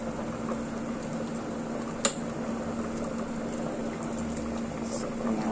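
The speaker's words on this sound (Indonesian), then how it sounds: "Nah, ini supnya ya udah direbus selama 45 menit." A pot of soup with peanuts, corn, carrots and chicken feet boiling on a stove, a steady low bubbling simmer with a soft hum and one brief clink near the start.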